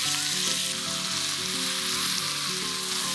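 Chopped small onions and tomato sautéing in hot tempering oil in a pan, a loud continuous close sizzle with a faint tonal hum running underneath and no speech.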